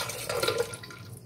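Juice from three lemons pours into a glass jug holding ice, a short soft splash and trickle of liquid heard close and quiet.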